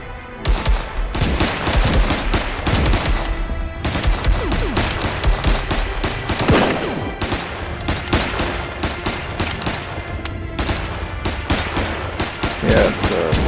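Rapid, sustained gunfire in the Cactus Cowboy - Plants At War video game, with dense repeated shots and bursts rattling loudly and almost continuously throughout, with brief pauses between volleys.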